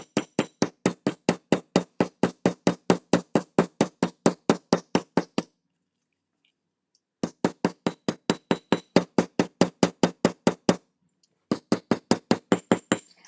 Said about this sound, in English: So we're going to hammer right below that line.